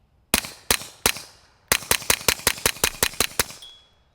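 A Retay RXP22 pistol fires Winchester .22 ammunition in a quick series of sharp, loud cracks: three spaced shots, then a faster run of about a dozen, each ringing out briefly.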